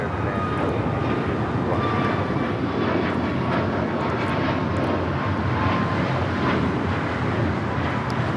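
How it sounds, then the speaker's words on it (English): A Southwest Airlines Boeing 737 MAX 8 takes off for Dallas Love Field at Los Angeles airport, a loud sustained low engine roar with whining tones on top, and speech running over it. "2553 taking off to Dallas Love Field on the MAX 8"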